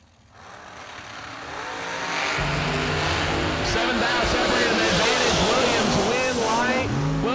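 Drag racing cars, including a blown Miller, launching down the strip at a New Year Nationals event, a loud engine roar building quickly and holding steady at full power, with an announcer's voice over it.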